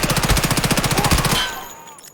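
Rapid automatic gunfire in Escape from Tarkov aimed at the boss Killa: a loud, close burst of evenly spaced shots for over a second, then a quick decaying tail.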